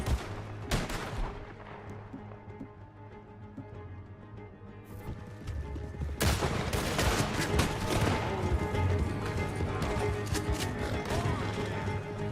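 Gunfire during a shootout in the Red Dead Redemption 2 video game, with dense bursts of shots over a busy mix of hoofbeats and action noise, intensifying midway, loud and continuous, with some voices.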